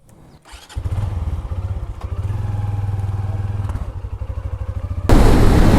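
A motorcycle engine fires up and settles into a loud, close, pulsing idle before revving into a louder, rushing roar as it pulls away onto a hot desert highway.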